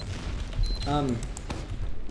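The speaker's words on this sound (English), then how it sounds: "you will have immediate explosion radius to your sticky bomb launchers if you just simply fire it" A sticky bomb launcher in Team Fortress 2 fires and the bomb explodes, with a short burst of sharp blasts and a brief whistling tone among loud game noise.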